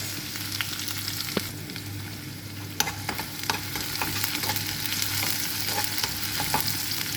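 Dried chilies, garlic and onion fry in hot oil with a continuous crackling sizzle, punctuated by occasional sharp pops and stirring scrapes, close up and fairly loud.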